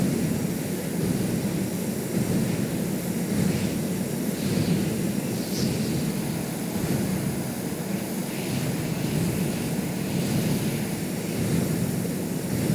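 Aircraft engines in the Stormworks game, including a number four engine just starting, drone as a steady, moderately loud low rumble that holds unchanged throughout, with no talking.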